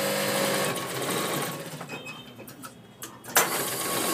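A sewing machine stitching a long frock runs with a continuous rapid whirring hum at close range, easing off briefly before a sharp click near the end.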